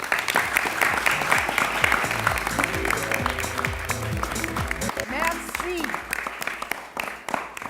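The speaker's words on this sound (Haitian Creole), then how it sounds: "je vous demande d'applaudir Diana Marcy" An audience claps through a burst of applause at a Women's Day event show, heard close and busy, with a voice speaking over part of it.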